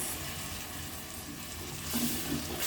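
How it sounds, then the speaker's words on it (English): Blended tomatoes hit a hot pan with a broad, even sizzle that hisses steadily and swells louder near the end as the liquid spreads, close and without speech. "So I'm just going to add in the blended tomatoes."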